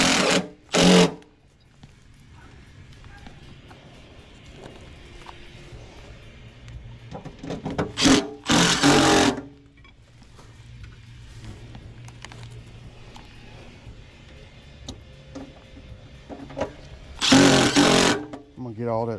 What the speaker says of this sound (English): I'm gonna get all that screwed down good.